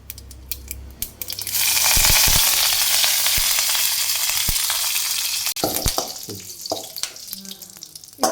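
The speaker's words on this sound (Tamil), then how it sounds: "கடுகு பொரிஞ்சுட்டோம். இதோட வந்து நம்ம கருவேப்பிலை ஆட் பண்ணிக்கலாம்." Mustard seeds and curry leaves hit hot oil for tempering a radish chutney, bursting into a loud, close, hissing sizzle that swells after a quiet start, drops sharply, then continues with sputtering pops and clatter.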